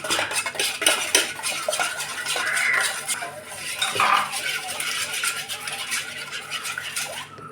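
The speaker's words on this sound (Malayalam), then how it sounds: "ഇനി ഒരു സ്പൂൺ കൊണ്ട് നമ്മൾ ഈ മുട്ടയെ നല്ലവണ്ണം കലക്കി കൊടുക്കണം, അടിച്ച് പതപ്പിക്കണം" A spoon beats eggs in a bowl until frothy, rapid rhythmic clinking and scraping of metal against the dish, close and continuous with no speech.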